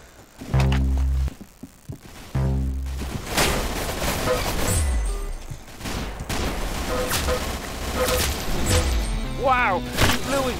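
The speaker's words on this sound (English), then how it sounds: "Oh, I love the candy cane machine guns." Rapid machine-gun fire from candy cane machine guns in the Roblox game Arsenal, loud bursts of repeated shots with thumps and impacts, some broken by short gaps, under game noise.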